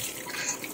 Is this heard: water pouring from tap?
yes